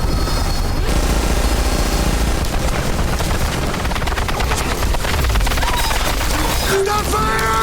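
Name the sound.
gunfire in an Incredible Hulk film clip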